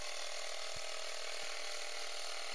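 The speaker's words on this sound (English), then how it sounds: "Now I'll talk about the air compressor a little bit while that's been pumping up." A Ring 12V air compressor inflates a Porsche tyre, giving a steady, loud, close mechanical drone with a rapid pumping rattle and occasional knocks, with no talking.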